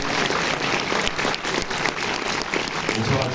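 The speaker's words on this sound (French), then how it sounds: "On peut l'applaudir chaleureusement." Dense applause from a cinema audience welcoming a film producer at a premiere screening, steady and sustained throughout with a thick wash of many hands.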